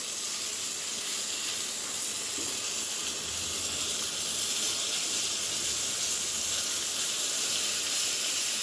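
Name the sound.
frying pointed gourd (potol) in a pan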